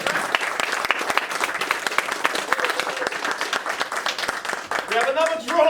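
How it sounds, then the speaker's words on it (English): A crowd at an MMA event applauds after a fight, with sharp distinct claps near the mic over the wider audience and voices talking over it toward the end. "Another round of applause, please, for a technical fight."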